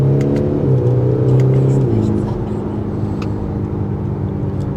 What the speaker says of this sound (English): Full throttle here, it will auto shift down.